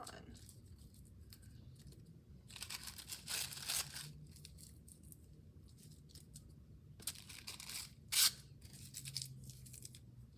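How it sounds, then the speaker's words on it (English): Green tissue paper is ripped by hand for a children's paper flower craft, a few sharp tearing bursts, close and fairly loud, over a quiet room. "rip off some of my green tissue paper and stick it on"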